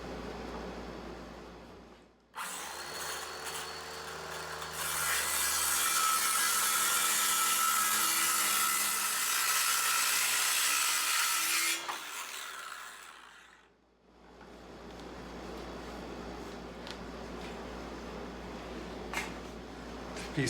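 A saw cuts through a wooden sideboard piece resting on 3/4 inch spacers, a steady loud whirring rasp lasting several seconds before it winds down, with quieter shop noise on either side.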